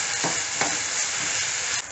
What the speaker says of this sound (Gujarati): લીલું લસણ, લીલી ડુંગળી, ટામેટા બધું એકદમ સરસ સતરાઈ રહ્યું છે